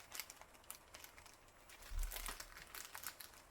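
Adhesive tape is pulled and pressed onto a clipboard, with faint, close crinkling and rustling, short tearing sounds and a low thump partway through.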